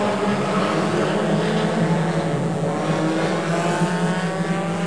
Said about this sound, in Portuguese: Rodrigo Vieira largando dos boxes.